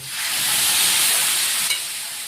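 Water poured into sizzling fried chana masala spices gives a loud, steady steam hiss that swells and holds for a couple of seconds, with a brief crackle near the end.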